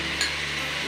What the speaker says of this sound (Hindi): ये डालेंगे अदरक लहसुन का पेस्ट